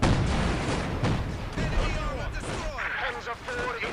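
Loud tank cannon fire against a Panzer IV in the Company of Heroes 2 Soviet campaign booms over a continuous roar of battle, with whistling, sweeping tones and voices heard in the chaos.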